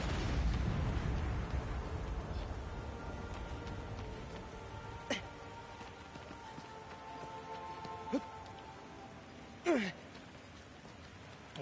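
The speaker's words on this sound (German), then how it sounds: "der schöne Regen, die schöne Atmosphäre hier." Rain falls steadily in the video game Shadow of the Colossus, a soft continuous hiss at low level, broken by a few brief sharp bursts and pops.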